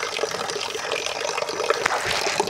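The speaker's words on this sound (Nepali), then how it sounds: "पानी भरिरहेछ म" Water runs in a steady, close stream as a container fills, with a continuous rushing wash throughout and no voices.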